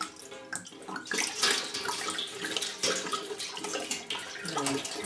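Two litres of water poured from a container into a large pot for making pogača, a loud gushing, splashing flow that surges and wavers, close by with no talking.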